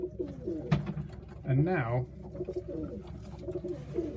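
Macclesfield Tippler pigeons coo once in a short rolling burst, close by, amid low background murmur and brief speech.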